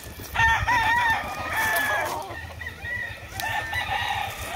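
A rooster crows twice in a gamecock yard, the calls loud and near over a steady low hum of farm background.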